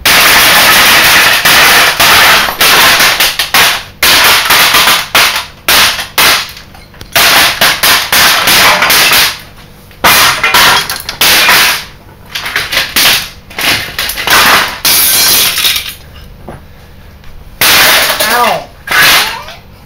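Rapid, loud, sharp impacts of a smaller hammer smashing into an HP printer, cracking and clattering in irregular bursts with brief pauses between.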